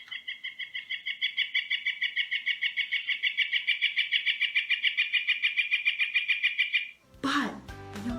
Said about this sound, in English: So that was helping me identify this bird as the northern flicker.